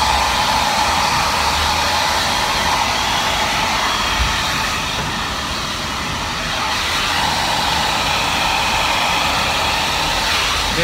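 A hair dryer runs steadily and fairly loud while drying permed hair, its airflow roaring continuously with a slight dip midway as the dryer is moved around the head, no voices present.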